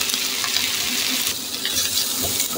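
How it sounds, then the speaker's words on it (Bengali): Onion, tomato and chopped carrot frying in a pan give off a steady, bright sizzling hiss that stays fairly even throughout, with no talking. "পেঁয়াজটি ব্রাউন কালার করে ভেজে নিব"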